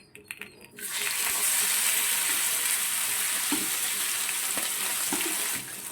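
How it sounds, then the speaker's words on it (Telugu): Marinated sea fish frying in plenty of hot oil, a loud steady sizzle that bursts on as the pieces go in after a few small clinks, with faint crackles throughout and no talking. "ఆయిల్లో వేద్దాం, కొంచెం ఆయిల్ ఎక్కువ వేసాను. ఈ ఫ్రై చేద్దాం."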